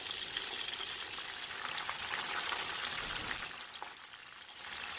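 Lemon pepper chicken wings fry in hot oil with a steady, bright, hissing sizzle that stays even throughout, faintly swelling and easing, with no talking.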